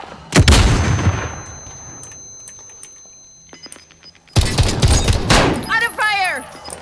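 Gunfire in the Call of Duty: Warzone video game, loud close bursts of shots at the start and again near the end with a quieter lull between, where faint game voices and effects carry on.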